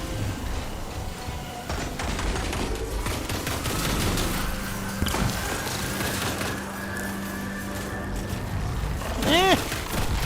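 Gunfire in the video game Destiny 2, a dense run of rapid shots and crackling bursts layered with busy game effects, loud and continuous, ending in a rising electronic whine.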